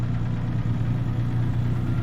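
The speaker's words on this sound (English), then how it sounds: "Just going to go through every gear sequentially here, just because it's a bit of an uphill gradient there." A Western Star 49X truck engine in American Truck Simulator pulling uphill, a steady deep diesel drone that stays constant and prominent with no audible speech.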